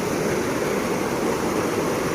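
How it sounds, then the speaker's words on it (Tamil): Floodwater rushes over a large bridge in Chengam after two days of heavy rain, a steady, loud, broadband roar with no pauses and no voices. "அந்த அளவுக்கு தண்ணி போகுது."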